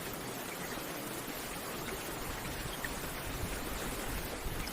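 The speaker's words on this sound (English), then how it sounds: "Now bring awareness to the sound of rain outside." Steady rain falls outside, a dense, even hiss with no breaks, heard alone and at a fairly low, soft level.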